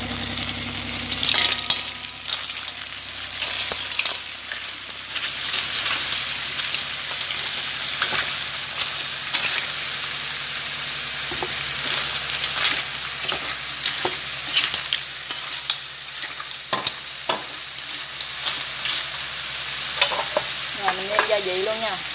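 Mussels and garlic are stir-fried in a pan, a steady close sizzle with a continuous crackle and frequent scraping stirs throughout.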